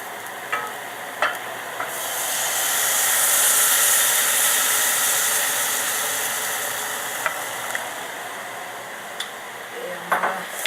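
Milk poured into a pan of cooking onions for chowder brings a loud, steady hiss and sizzle that swells and then eases, with a few soft clinks of a utensil and no voices.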